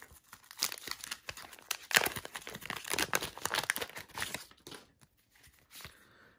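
Baseball card wax pack wrapper torn and crumpled open close up, a dense run of crinkling and tearing that tapers off near the end, with no talking.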